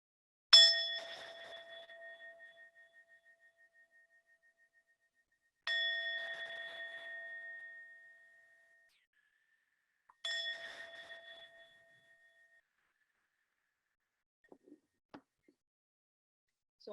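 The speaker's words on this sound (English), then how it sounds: "we'll open up the sit with inviting the bell 3 times" A meditation bell is struck three times in a quiet room, each clear metallic ring swelling and slowly fading before the next, with a few faint soft knocks afterward.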